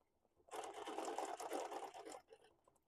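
A sewing machine stitches free motion quilting on a wholecloth quilt, a steady fast whirring hum running for about a second and a half before stopping, close but quiet.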